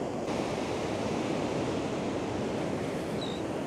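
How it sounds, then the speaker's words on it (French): Small ocean waves breaking at the Papara surf spot, a continuous loud wash of surf and wind noise from start to finish with no voices. "les vagues sont relativement petites"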